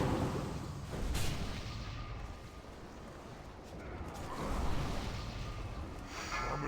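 A raid boss unleashes a fire breath attack in a World of Warcraft Classic raid, a dense roaring, rumbling wash of noise that swells and ebbs steadily across the whole stretch, with no clear speech.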